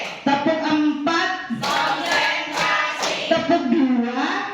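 Teachers in a classroom exercise clap a four-beat pattern together, the near, bright claps falling at a steady pace while someone keeps talking underneath.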